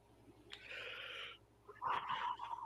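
A sleeping terrier breathes loudly and close, two long wheezy, whistling breaths with a snuffly rasp, separated by a brief pause.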